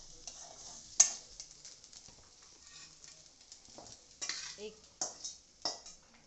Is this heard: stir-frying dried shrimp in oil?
yes